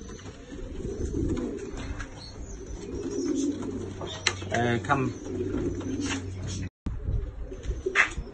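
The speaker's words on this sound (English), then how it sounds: "I've got a mixed bag of pigeons." Mixed-breed pigeons of Janssen, Van Loon and Goodyear lines cooing in a stock loft, a steady low murmur of coos running beneath a man's speech throughout.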